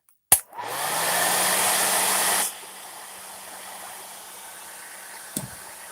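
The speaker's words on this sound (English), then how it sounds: "with the hair dryer." A sharp click, then a hair dryer roars loudly for about two seconds before dropping to a softer, lower hum, blowing alcohol ink on a canvas panel; another click near the end.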